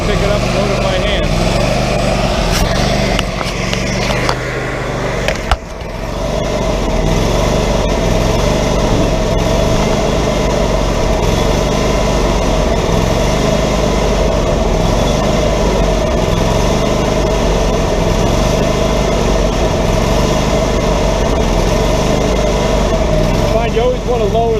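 Woodmizer LT40 hydraulic sawmill engine runs loud and close in a steady, throbbing drone while the loader lowers, with a brief dip and clunk partway through before the engine settles back.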